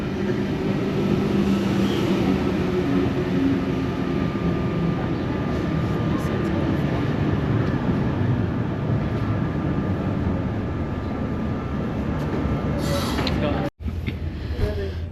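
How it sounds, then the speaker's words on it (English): VSET passenger train arriving at platform 2 at Schofields station, a steady loud rumble and hum of wheels and motors that holds nearly unchanged before a brief sharp break near the end. "the VSET is arriving back into platform number 2 at Schofields"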